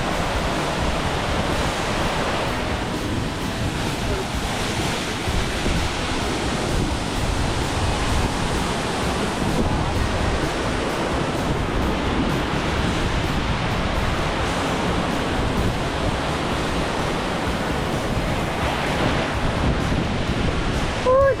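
Waterfalls in the Columbia River Gorge, Oregon, make a constant broadband roar of falling and splashing water, loud and steady throughout, with wind buffeting the microphone.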